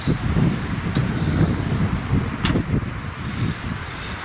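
Blustery wind rumbles steadily across a microphone in a home garden in early February, low gusty buffeting running the whole time with faint scattered knocks and no voices.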